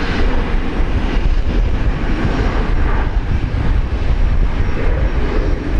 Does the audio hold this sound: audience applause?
no